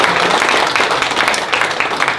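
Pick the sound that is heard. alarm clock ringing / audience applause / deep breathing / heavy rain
audience applause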